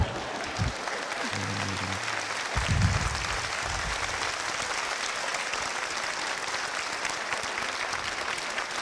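A crowd of audience members applauds steadily and densely for the whole stretch, a continuous wash of clapping with no voices.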